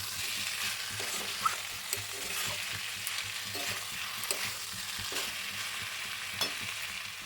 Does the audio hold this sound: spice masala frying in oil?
yes